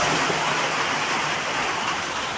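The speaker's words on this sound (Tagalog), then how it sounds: "Lakas ng ulan, no?" Heavy rain pours steadily, a dense, loud, unbroken hiss with no pauses.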